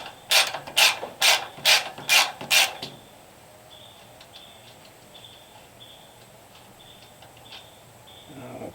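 Carriage bolts being removed from a Wood-Mizer LX150 sawmill, six rhythmic loud ratcheting wrench strokes up close, then quieter faint metallic ticks and taps.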